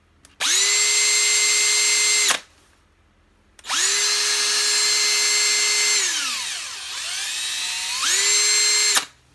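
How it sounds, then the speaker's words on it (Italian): A TECCPO TDHD01P 18V cordless hammer drill spinning with no load in three loud, close bursts of high-pitched motor whine, each starting and stopping sharply, the middle one winding down and back up in pitch. "Metto a fuoco più da vicino per poter apprezzare meglio la precisione della punta durante la rotazione."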